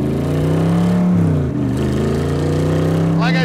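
A 1965 Shelby Cobra engine booms loudly through its exhaust pipes, heard from close by as a deep, steady drone with a slight dip and rise in pitch.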